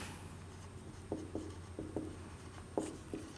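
Marker or chalk strokes on a board during a chemistry lesson, about seven quick scratchy taps in an uneven rhythm over a faint hum of the room, no speech.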